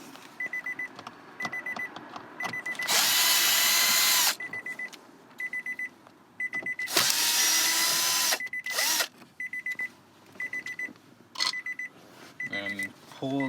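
A power drill backs screws out of a Nissan Pathfinder dash panel in two loud whirring runs, set among a steady repeating electronic chime from the vehicle.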